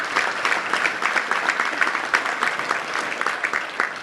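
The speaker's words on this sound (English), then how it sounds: "Let's give all those sponsors a round of applause real quick if you don't mind." Audience applause for sponsors at a Little Rock Touchdown Club meeting, a steady roomful of clapping hands that carries evenly through the whole stretch without any voices.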